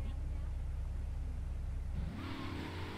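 In GTA III, a car engine idles and drives with a low rumble, then revs up into a rising mid-pitched whine near the end, under a faint voice.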